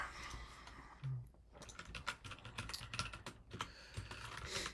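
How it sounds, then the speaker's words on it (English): Fast, uneven computer-keyboard typing during a live coding session on low-poly 3D models in Python, with close, steady key clicks and brief pauses throughout. "I've been trying to practice using the keyboard more."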